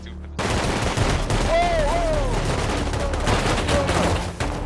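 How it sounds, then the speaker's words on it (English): Rapid, random gunfire crackles in the survival video game Rust, with overlapping shots in bursts across a busy multiplayer scene, sounding fairly close amid other game noise. "The entire area collapsed into random gunfire"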